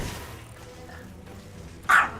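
A pet dog named Coffee lets out a single loud bark near the end after a stretch of quiet room tone.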